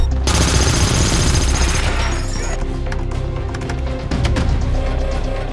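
Dense gunfire from a film battle scene, with rapid automatic bursts and crashing impacts packed together and loud throughout, mixed with a heavy soundtrack rumble.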